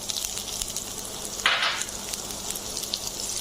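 Long beans hit a pan of garlic browned in oil, a continuous close frying sizzle with a sudden louder hiss burst as they land, then crackling settles back to a steady fry.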